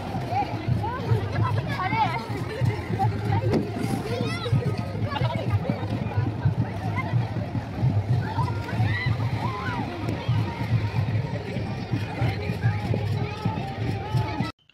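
People bathing and splashing in the Punpun river during Chhath puja festivities, with continuous splashes and water churning under a loud babble of voices and shouting nearby.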